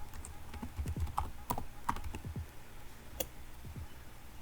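Keys clatter on a computer keyboard as a terminal command is typed on Ubuntu, a quiet, uneven run of close clicks and taps with brief pauses between bursts.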